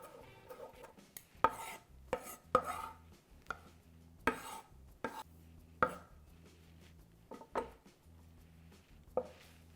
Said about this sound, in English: And you really want to finely chop these.